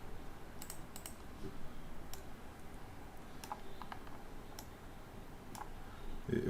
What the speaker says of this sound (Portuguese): Eu acho que eu dei dois cliques sem querer.